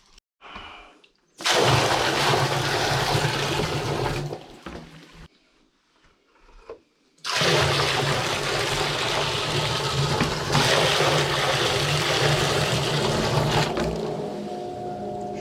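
A sump pump in a greenhouse sump switches on and pumps water, a loud rushing, gurgling whoosh that runs for a few seconds, stops briefly, then restarts and continues steadily.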